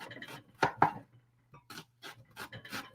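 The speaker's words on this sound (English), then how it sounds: "I'm just cutting lines down the onion here" A knife slicing lines into an onion on a cutting board, a series of close crisp cuts and taps in irregular bursts with short pauses, no talk.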